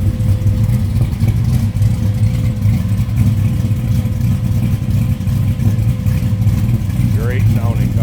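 A 1968 Chevrolet Chevelle SS engine runs warm and loud, a steady deep rumble held throughout with slight swells as it revs, close by, with a brief squeaky sound near the end.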